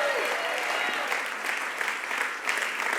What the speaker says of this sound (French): Please give a greater hand clap to Jesus Christ